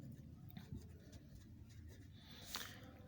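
Pen or pencil writing capital letters by hand on paper, a quiet close scratching that comes in short strokes against a low background hum, with one brief louder stroke near the end.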